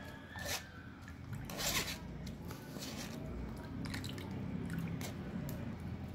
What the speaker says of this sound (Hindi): थोड़ा थोड़ा पानी डालकर मैं इसको छानती जा रही हूँ।